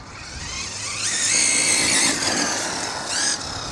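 An RC rally car from ZD Racing, fitted with a bigger motor, makes a speed run with a high electric motor whine and tyre noise that rises, peaks and eases over a few seconds.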